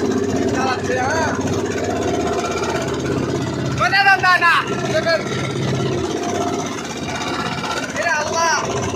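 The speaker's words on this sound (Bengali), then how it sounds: "আমাদের এই নৌকাটা অনেকটাই স্পিডে যাচ্ছে" A motorboat engine drones steadily at speed on a river, a continuous mid-range hum under loud, excited talking and shouting from people aboard.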